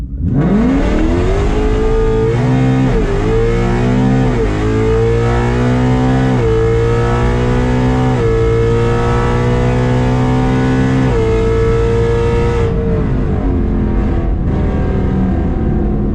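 A nitrous-fed Ford Mustang S650 drag car roaring through a pass, its engine pitch climbing hard through several gear changes before cutting off sharply near the end, loud and with no talk.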